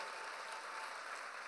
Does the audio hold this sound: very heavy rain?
no